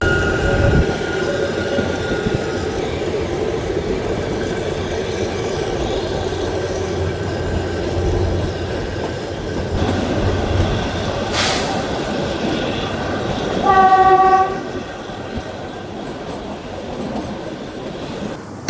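The Kalka-Shimla heritage train rumbles steadily along its narrow-gauge mountain track with a continuous rolling clatter and wheel noise. A sharp squeal cuts through near the middle, and a short, tonal horn-like blast sounds toward the end.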